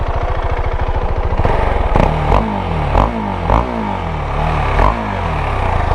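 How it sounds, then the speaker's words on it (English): A Husqvarna Svartpilen 701 motorcycle on its stock exhaust chugs low, then revs up and down in several sharp surges, each throttle blip rising and falling, heard close with no voices. "The stock exhaust is actually pretty satisfying on this bike."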